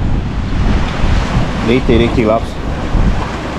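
Sea waves and surf on an open-water stretch near Patong beach in Phuket, Thailand, a steady broadband wash mixed with wind noise on the microphone, with someone speaking briefly over it.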